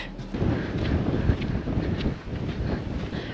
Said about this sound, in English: All right, it's pretty windy.